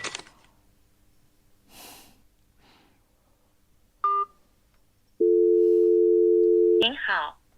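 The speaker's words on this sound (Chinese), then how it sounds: "我打个电话问问。" A mobile phone call is placed: a short electronic beep, then a single long, steady ringing tone on the line. The tone breaks off into a brief voice at the end.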